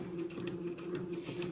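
A sewing machine stitching a silk sleeve into its lining, a steady close mechanical hum with a faint rapid needle rhythm, brief and uninterrupted, no talking.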